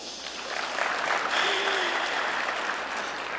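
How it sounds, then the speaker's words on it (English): Audience members at a workplace productivity keynote clapping their hands, a dense, even burst of applause from a large room that holds steady and then eases slightly, with a faint voice briefly rising above it. "Clap your hands."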